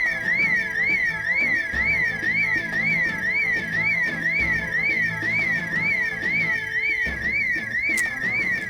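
A house alarm rings in the zombie survival game Project Zomboid, a loud, steady warbling tone repeating in fast regular cycles over low background game noise.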